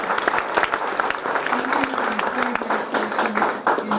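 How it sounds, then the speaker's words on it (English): Audience applause at a community college graduation ceremony, a crowd clapping steadily with distinct individual claps audible and some faint voices and cheers mixed in. "I think you should give them a round of applause."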